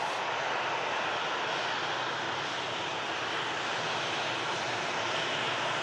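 Ryanair UK jet aircraft at Manchester Airport producing a steady, loud, broadband engine roar that holds without a break throughout, heard at a distance with no voices.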